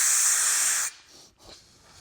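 A spray gun nozzle pushed up under the coating on a Ford E-Series gives a loud, close hiss for under a second, then cuts off into faint rustling.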